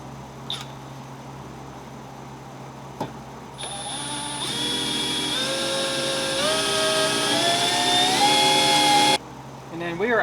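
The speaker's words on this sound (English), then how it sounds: "We're going to start drilling." A power drill bores mounting holes for a TorqStorm supercharger intercooler setup, whining steadily and rising in pitch for several seconds before stopping, preceded by a couple of sharp clicks and quiet handling.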